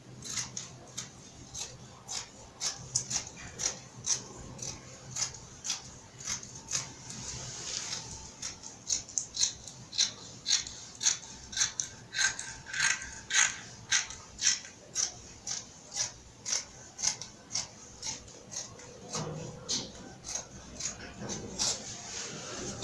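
Scissors snipping through trouser fabric at a tailoring table, a long steady series of crisp, close cutting clicks in a regular rhythm, with faint room noise and no talk.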